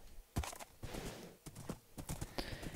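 Horse hooves clip-clop in the Minecraft video game, a run of quick, fairly loud irregular thuds and clicks in close succession, with no talking.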